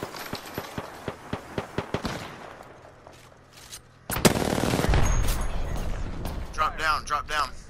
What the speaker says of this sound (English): I am taking fire, friends. Enemy over there. Getting shot at.